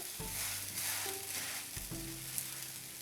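A sweet dosa sizzles and fries steadily on a hot pan and is turned over, with a continuous close crackle and some low scraping knocks from the flip.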